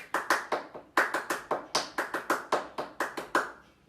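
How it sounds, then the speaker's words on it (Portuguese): Crisp hand claps in a steady rhythmic pattern during an intermediate tap dance lesson, grouped in short runs of two and three. Each clap is close, bright and sharply separated by brief silences. "Então você pode fazer, por exemplo, pro tap, 2 e 3 palmas."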